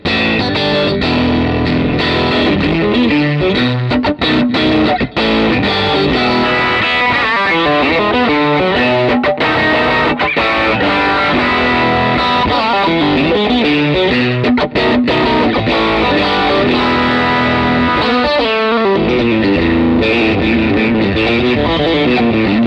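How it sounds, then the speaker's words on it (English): Electric guitar played through a Compulsion distortion pedal into an amp, with the drive nudged slightly up; a loud, continuous stream of overdriven chords and riffs with thick sustain, and no talking. "Let's start off with this compulsion distortion."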